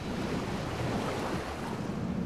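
A U-boat in the Silent Hunter 3 submarine game dives beneath the waves, heard as a steady rushing wash of water and surf noise, constant and fairly loud with no talk.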